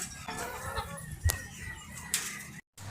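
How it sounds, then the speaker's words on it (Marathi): Village hens cluck softly nearby in short, scattered bursts over a quiet outdoor background. "आता कसे वाट बघू राहिल्यात माझी कोंबड्या."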